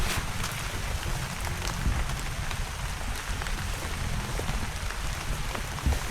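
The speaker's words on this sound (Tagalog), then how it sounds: "Maghapong ulan na naman." Steady rain falls all day during a low-pressure spell, a dense even patter on surfaces with occasional louder drops, close and continuous without talk.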